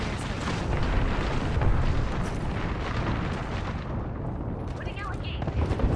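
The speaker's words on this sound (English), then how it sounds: "Friendly airstrike coming" A friendly airstrike in a video game sets off a continuous, dense rumble of explosions and blasts, loud and close for several seconds, with voices and game chatter mixed in underneath.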